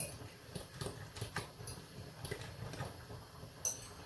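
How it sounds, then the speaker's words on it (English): Potatoes boil in a pot in a home kitchen, giving a faint, irregular patter of small bubbles popping with soft ticking clicks throughout, heard from a little distance with no talk over it. "If you can hear that noise bubbling behind me, it's some potatoes that I've got boiling"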